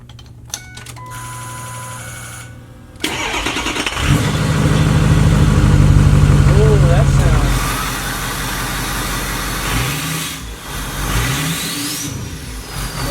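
A 6.0 Powerstroke diesel with only a straight turbo downpipe and no muffler or cat idles with a raw rumble, then revs up loudly and holds before settling back, a faint turbo whistle rising above the close engine.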